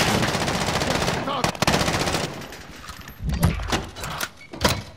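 Bursts of rapid machine gun fire in the Warzone video game, loud and dense at the start and then in shorter, separate volleys. A voice calls out briefly underneath.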